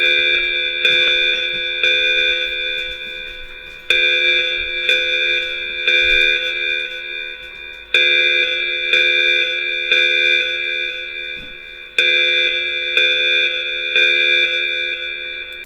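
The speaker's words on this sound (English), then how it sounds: "It's an alarm that sounds like this." A loud electronic alarm from an animated show repeats in four-second cycles, each one starting as a bright, bell-like multi-tone chime that slowly fades before the next one hits.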